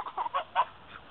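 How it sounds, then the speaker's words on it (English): Geese on dirty pond water give a few quick, faint honks in a short burst, thin and low-fidelity, with no talking over them. "Yeah, these are geese, those are ducks."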